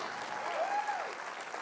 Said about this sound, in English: Let's clap our hands for all of our first-time guests.